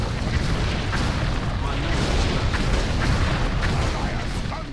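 Cannon fire in World of Warcraft's Icecrown Citadel during a gunship battle: a steady, dense, loud rumble of booms and blasts throughout, with no clear pauses.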